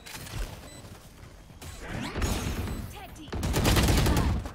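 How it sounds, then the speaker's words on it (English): A swarm grenade going off in a video game shooter: a few sharp bursts and crashes with mechanical clatter, building to a louder, denser volley near the end, with faint background noise between. "Placing swarm grenade."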